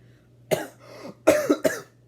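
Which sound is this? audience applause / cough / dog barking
cough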